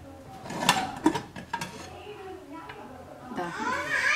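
A depressurised pressure cooker holding cooked dal is opened in a home kitchen, with a few sharp metallic clanks and scrapes of the lid, followed by quieter handling while a voice talks.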